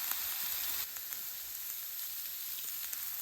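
A ribeye steak sears in a pan with a constant faint hiss and crackle, a slightly louder burst at the start settling into an even sizzle.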